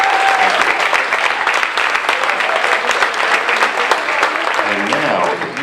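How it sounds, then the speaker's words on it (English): Loud, sustained applause from an audience at an Italian exchange program celebration, many hands clapping densely and evenly before tapering slightly at the end, with some voices faintly mixed in. "So please give them a round of applause."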